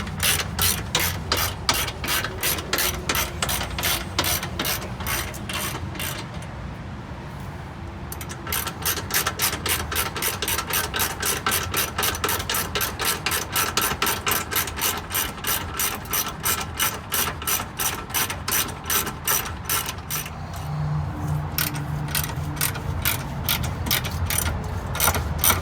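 A ratchet turns out the subframe bolts on a 2009 Chevrolet Cobalt SS, a long run of fast, evenly spaced clicks close up, broken by a couple of short pauses before the clicking resumes.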